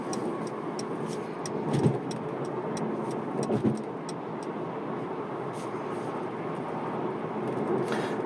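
Steady road and engine noise inside a Mercedes-AMG CLS 53 4Matic+ cruising in comfort mode through traffic, a smooth even drone with faint ticking and a couple of soft bumps, no voices.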